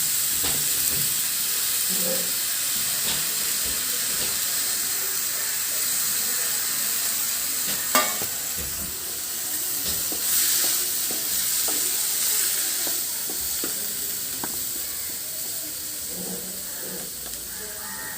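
Potatoes fry in a pan and get stirred, making a constant loud hiss and sizzle with scraping strokes and a sharp knock partway through, with no voices.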